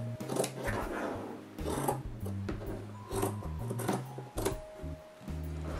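Scissors snip fringe into fleece fabric for a no-sew pet bed, a series of close, crisp cuts in uneven rhythm over a faint steady hum.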